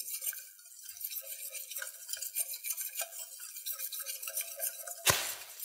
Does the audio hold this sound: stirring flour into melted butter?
yes